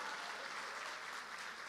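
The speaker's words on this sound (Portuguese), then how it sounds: "Dê um aplauso a Ele." Church congregation applauding during a sermon, a steady dense wash of many hands clapping at low overall level, continuous for the whole stretch without a break.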